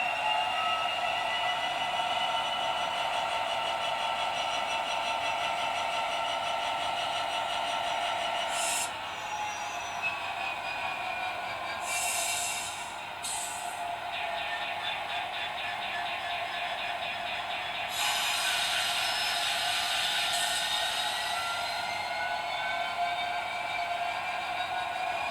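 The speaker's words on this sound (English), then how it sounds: "these digital locomotives are superb and they are a realistic experience" A digital-sound Class 66 model diesel locomotive runs through Peco Insulfrog points into sidings, giving a steady whining engine drone with sustained tonal hum and several short hissing bursts over about 25 seconds.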